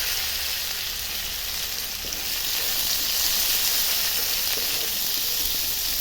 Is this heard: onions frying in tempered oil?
yes